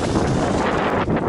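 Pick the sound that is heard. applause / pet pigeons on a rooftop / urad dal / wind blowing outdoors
wind blowing outdoors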